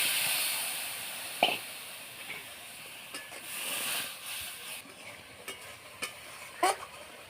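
Prawn curry with coconut milk simmering in a pan, a soft steady sizzle and hiss with a few isolated clinks of a spoon against the pot.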